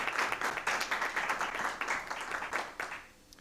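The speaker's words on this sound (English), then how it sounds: "So let's give her a round of applause." An audience at a school board meeting claps in a brief, moderately close round of applause, many hands patting together before it fades out near the end.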